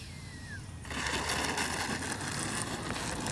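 A Freewing 70mm BAe Red Hawk RC jet on landing approach with flaps down, a steady whooshing ducted-fan roar that swells slightly and holds, heard from a distance outdoors.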